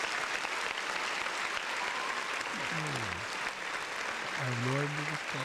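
Audience clapping at a live podcast taping, steady dense applause throughout with voices talking over it partway through.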